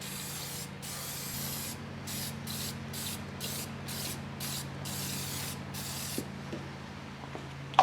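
Aerosol spray paint applied to a part of a front-loading washing machine: about a dozen short, even hissing bursts in quick rhythm, close and clear over a low background hum.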